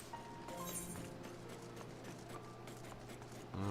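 Steady clip-clop footsteps of a robot walking behind the player character in Final Fantasy XIV, a regular rhythmic stepping with faint mechanical clanks, fairly quiet and continuous amid ambient game sound.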